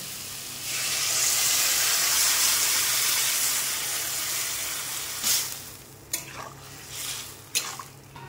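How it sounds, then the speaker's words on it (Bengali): Water hits a hot pan of frying tomato and ridge gourd, setting off a loud, steady steam-laden sizzle that holds for several seconds, then eases into softer crackling broken by a few sharp stirring scrapes. "এর মধ্যে টমেটোটাও দিয়ে দেবো। এবার দেবো জল।"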